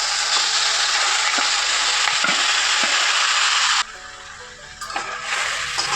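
Grated carrots sautéing in ghee for a carrot pudding, a loud, dense, close sizzle that runs steadily, then drops abruptly and returns with lighter stirring.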